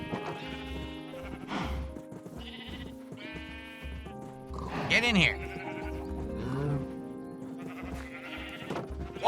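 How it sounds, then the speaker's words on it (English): Minecraft sheep bleat repeatedly amid a chaotic pen of cows and sheep, several short wavering cries rising over a steady low drone, with someone talking throughout. "Oh, we got another sheep."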